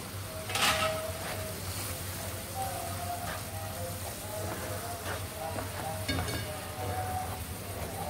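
Minced meat frying in a pan for a pasta sugo, a faint, steady sizzle with occasional scrapes and clinks of the pan, heard alone with no talk.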